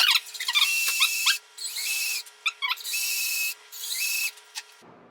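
Power drill boring a mortise with a 1/4 inch Forstner bit in a bed hardware install jig, several loud high-pitched whining bursts of cutting separated by short pauses, close up and alone.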